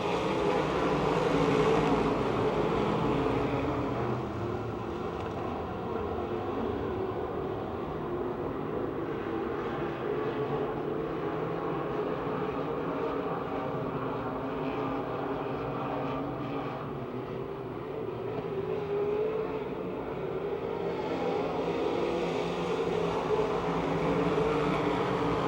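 Several race cars run at Pennsylvania Motor Speedway near Pittsburgh as they battle for second, their engines making a steady, loud, continuous drone that swells and eases slightly over the stretch, with no talking.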